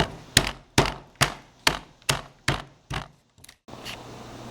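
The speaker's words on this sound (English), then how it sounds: "take you a hammer and knock out the pieces." A hammer knocks out wood pieces after saw cuts, about eight sharp close thunks at a steady quick rhythm, each with a short decay, then a couple of softer taps.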